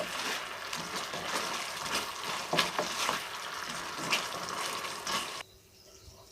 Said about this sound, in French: on va tout simplement mettre nos cubes de tofu. On va remuer pendant 1 minute